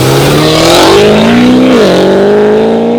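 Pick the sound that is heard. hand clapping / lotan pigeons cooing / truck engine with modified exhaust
truck engine with modified exhaust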